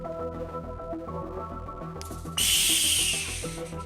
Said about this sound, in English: let's do the whistle.